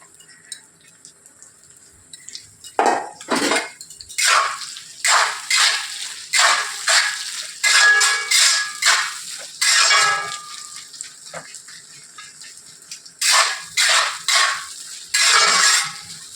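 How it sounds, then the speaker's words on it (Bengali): Sliced onions frying in hot oil in a pan for a Bengali fish dish, heard as a series of loud, close sizzling bursts that come and go in waves, like repeated stirring, over a quiet background. "এবার তেলের মধ্যে আমি পেঁয়াজগুলো দিয়ে দেবো"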